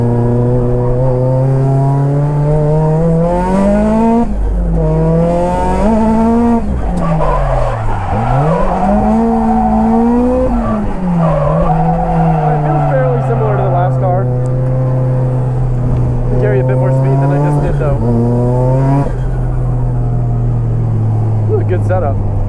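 Nissan S15 cars drift at Nikko, tires squealing in long wavering screeches over loud revving engines, continuous and close throughout.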